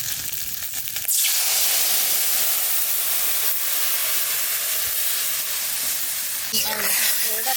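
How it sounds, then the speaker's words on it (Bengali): Water poured into a pan of frying shol fish sets off a sudden loud, steady hiss of steam and sizzle that fills the scene, fading slightly near the end with faint clatter. "এবার ওই মাছ ভাজার মধ্যে আমি জল দিয়ে দেবো।"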